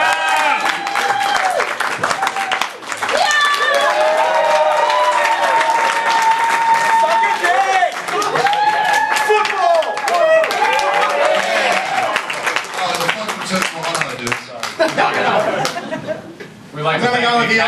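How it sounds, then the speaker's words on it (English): A comedy debate audience breaks into loud, sustained clapping and cheering with scattered laughter and chatter, voices mixing in throughout and the applause dipping briefly near the end. "You're going to give a round of applause in order to determine which of these 2 teams has won this debate"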